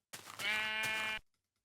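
A sheep bleats once in the Minecraft game: a single clear, drawn-out bleat lasting about a second, alone and close.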